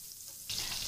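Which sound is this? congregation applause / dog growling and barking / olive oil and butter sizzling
olive oil and butter sizzling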